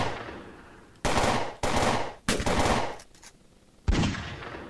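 Gunfire in the Fort Zombie video game comes as four or five sharp, loud bursts, each cracking in and tailing off, separated by short gaps of quieter background.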